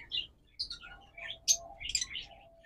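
A pair of pet birds of a premium breed offered for sale, giving several quick bright chirps and short twittering calls in a quiet room, close and clear with gaps between calls.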